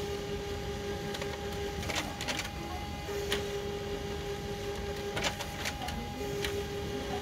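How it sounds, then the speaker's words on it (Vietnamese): An HP LaserJet Pro M28a laser printer running a long continuous print job, with a steady whirring hum and regular clicks and paper-feed snaps repeating every second or so, close and moderately quiet. "gần 1 phút và tốc độ in vẫn đang rất là đều đặn"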